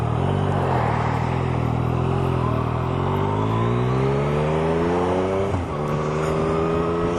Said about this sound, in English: Wait for these cars to go past